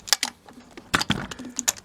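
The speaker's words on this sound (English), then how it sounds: "This is a standard click wrench." Metallic clicks and clanks ring out close by as a standard click torque wrench tightens bolts on the cylinder head of a Honda CB1300 motorcycle, a quick irregular burst of sharp ticks without speech.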